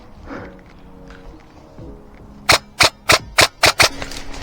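An airsoft gun fires about six sharp, close pops in quick succession during an outdoor airsoft game, following a stretch of quiet background murmur.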